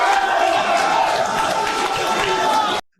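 A large rally crowd roars continuously, a dense, loud wash of cheering and voices that holds steady for almost three seconds before cutting off abruptly.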